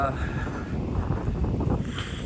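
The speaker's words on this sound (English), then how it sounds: "it's windy out today and rainy" A steady outdoor wind rumbles against the microphone, a low continuous roar with a faint voice buried underneath.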